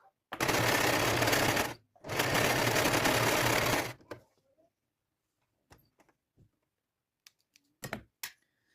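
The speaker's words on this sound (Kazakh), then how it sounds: "Енді 1 см етіп тігіп шығамыз." A sewing machine runs a straight 1 cm seam, stitching without an overlocker, in two steady bursts of about a second and a half each separated by a short pause, followed by a few faint clicks and handling sounds.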